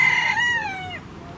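A single English game bantam rooster crows nearby, a long bright call that rises and then trails down and fades, with quiet farmyard background.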